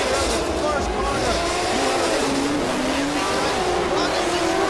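Rallycross race cars powering through a corner in a continuous, loud engine roar with rising and falling revs, under a commentator's steady voice.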